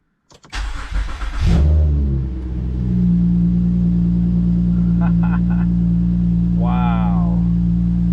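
An Acura TL Type S with a J37 engine cranks briefly and fires up loudly, then settles into a steady, deep idle rumble close by, with a few faint clicks and a short voice partway through.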